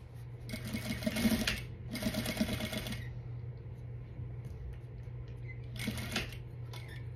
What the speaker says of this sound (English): now we're gonna go to the machine and we're gonna go and baste that